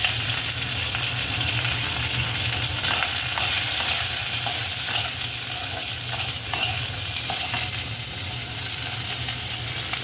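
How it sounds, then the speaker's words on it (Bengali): Cauliflower and other vegetables fry in hot oil, giving a steady, loud broadband sizzle with occasional stirring clatters, close up and with no talking. "সব সবজিগুলো তেলের ওপর দেওয়া হবে প্রথমে বন্ধুরা ফুলকপি দেওয়া হবে"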